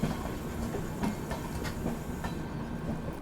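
The Amrit Bharat Express rolls along the rails with a steady rumble and a faint, evenly spaced clickety-clack of wheels over rail joints. There is no talk.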